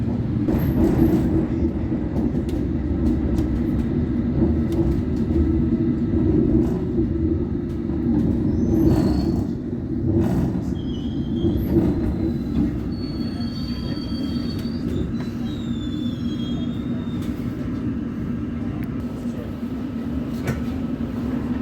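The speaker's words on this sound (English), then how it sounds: "This is a Hammersmith and City Line train to Barking." A London Underground Hammersmith and City line train rumbles steadily along the track, wheels squealing and screeching at intervals over a constant low drone, with no talking.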